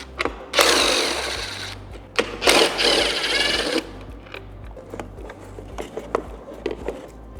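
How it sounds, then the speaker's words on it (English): A power screwdriver whirs in short, loud bursts while removing screws from a Harley CVO headlight assembly, followed by lighter clicks and handling of parts nearby, no speech. "Last, we're going to remove these 2 screws."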